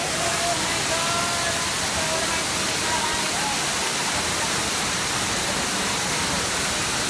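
Waterfall at Dunn's River Falls in Jamaica, a steady full-band roar of rushing water filling the scene, loud and constant throughout with no pauses.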